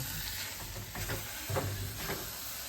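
Sugar stirred into grated carrots cooked in ghee for gajar halwa: a soft, steady sizzle up close with repeated scraping stirs through the pan.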